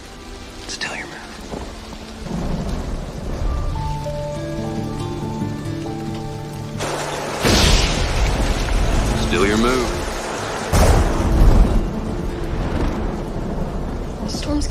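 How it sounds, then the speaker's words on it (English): Steady rain patters throughout as loud thunder cracks and rumbles twice, while a person speaks briefly and soft music plays underneath. "The storm's getting worse."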